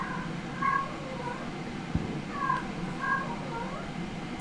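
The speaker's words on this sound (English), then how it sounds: "That's the craziest sound I've ever heard a cat make." An unfixed cat in heat lets out loud, drawn-out yowling meows, several wavering calls in a row, with a brief knock in between and no talk over them.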